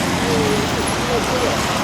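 Cars pass a road accident scene on a bypass road, a steady roadway rumble with a voice speaking over it.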